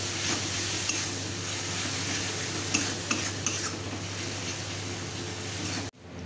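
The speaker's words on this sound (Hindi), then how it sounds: "इसी मसाले के साथ हम पाउडर मसाला भी भूंज लेंगे।" Turmeric and coriander powder masala fries with a steady sizzle as it is stirred in a pan for a Bengali tilapia fish curry, with a few soft scraping clicks, continuous and fairly close, cutting off abruptly near the end.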